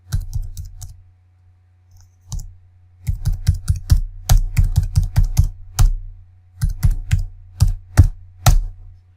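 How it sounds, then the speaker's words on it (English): Numbers being typed into an Excel spreadsheet on a computer keyboard: crisp close key clicks in short irregular bursts separated by pauses, over a steady low hum. "If we type in some numbers,"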